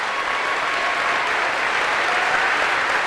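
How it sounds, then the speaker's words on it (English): An audience breaks into steady, even applause for a man's wife, a thick wash of clapping throughout with no talk over it. "can she get a round of applause?"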